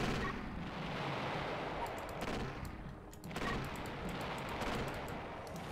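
A flux missile launches in the Battle Engine Aquila video game, a loud rumbling barrage of blasts with a brief dip midway, then continued thunderous firing and explosions.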